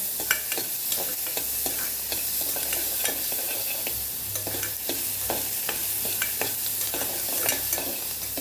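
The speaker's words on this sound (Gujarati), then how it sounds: "ડુંગળીનો થોડો કલર બદલાય ત્યાં સુધી આપણે એને સાતળી લેવાની છે" Onions sautéing in a pan for Kathiyawadi moong dal with husk: a steady close sizzle with frequent sharp scraping clicks of a spoon stirring against the pan, a low hum underneath.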